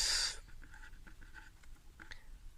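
Marker or chalk taps and short strokes on a board during a cell biology lecture come as a quiet, irregular series of scratchy marks after a brief loud noise at the very start.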